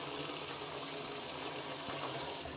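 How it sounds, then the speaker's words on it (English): Cold water gushing from a tap into a sink with washing-up liquid, a steady close rushing hiss throughout that tapers off at the end. "I am just going to put some water with some washing up liquid in the sink."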